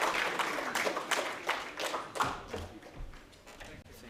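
An audience at a program launch event of the Mumbai Educational Trust claps to welcome a speaker onto the stage, a moderate round of applause that swells briefly and then thins out toward the end.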